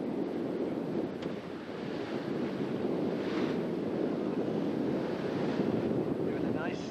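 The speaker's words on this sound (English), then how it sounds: "Here is Tom steering the boat on a broad reach up the Sheepscot River." A sailboat on a broad reach up the Sheepscot River: steady wind buffets the microphone over a constant wash of water and waves, continuous and fairly loud from start to finish.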